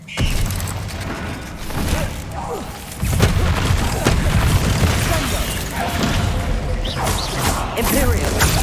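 A Bombarda spell explosion in Hogwarts Legacy booms loudly, followed by sustained crashing, rumbling and mechanical clatter from the game with no talking.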